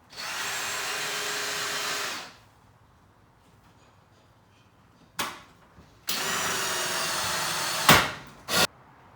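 A power drill whines through a shop vac dust collection fitting in two sustained bursts separated by a quiet pause, with a few sharp clicks and knocks between and after the runs.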